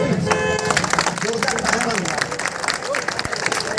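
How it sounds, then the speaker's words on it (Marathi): Audience applause at an outdoor street play for a 2024 Lok Sabha election voter awareness drive held at a municipal council venue, a dense, steady wash of clapping mixed with crowd murmur and voices, lasting throughout at moderate loudness. "पुन्हा एकदा जोरदार टाळ्या वाजवा"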